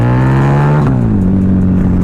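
A Harley-Davidson V-Rod Muscle motorcycle accelerating hard in first gear, a loud, close engine roar that climbs in pitch, dips briefly, then keeps pulling steadily upward.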